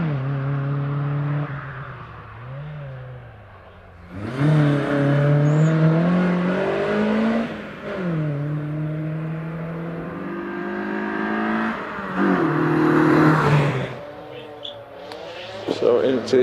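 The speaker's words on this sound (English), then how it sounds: "So into the S's goes Richard in that MG as Keith Misen gets away in the Mazda." At a British hillclimb at Prescott, an MG ZR 160 and a Mazda MX-5 race, their engines revving hard and surging through gear changes up close under a commentator's voice.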